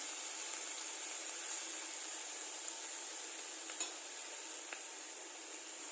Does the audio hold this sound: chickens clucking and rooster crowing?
no